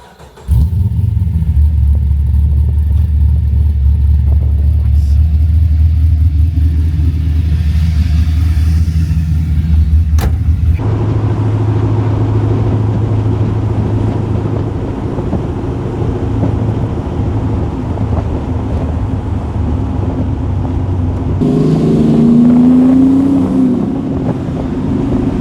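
HZ Holden One Tonner ute engine running while driving: a steady, loud low drone with wind rush over it. The tone shifts around the ten-second mark and swells again near the end as the engine revs.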